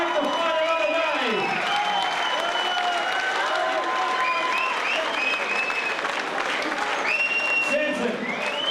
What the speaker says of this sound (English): Big round of applause for Samson, the great Younan